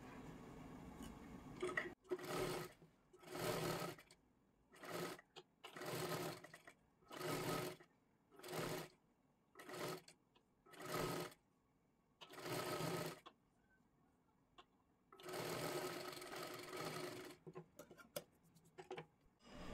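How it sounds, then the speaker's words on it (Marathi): A sewing machine stitches a size 38 princess-cut blouse in a dozen short whirring bursts separated by brief pauses, close and clear, with faint handling noises in the quiet gaps. "सर्वात आधी इथे शिलाई मारून घ्यायची आहे."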